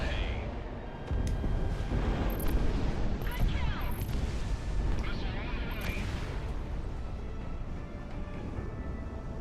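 Bombs dropped from a jet exploding in Project Wingman, a sustained loud roar of rumbling blasts with booming impacts over continuous engine noise, with a voice talking over it.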